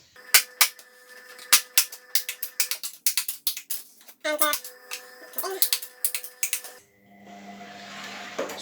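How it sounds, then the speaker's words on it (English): Scissors snip tabs out of material to reinforce the inside of skirt pieces for a Marvin costume, giving a close, rapid run of sharp crisp cuts with brief pauses, followed by a soft steady hiss. "So I'm going to cut out some tabs for that."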